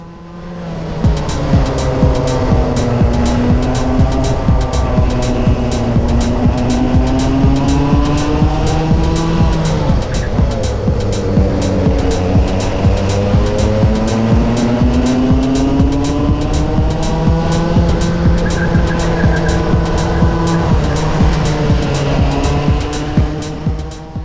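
Club100 racing karts roar around Ellough Park in a dense pack, a loud continuous engine drone with rising and falling pitch as the field accelerates off the green light, sustained throughout.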